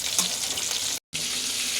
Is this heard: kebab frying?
yes